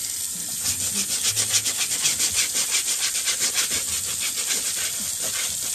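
A brush scrubs the soles of pre-owned shoes in quick, even, rhythmic strokes, a close and steady rubbing with no talking.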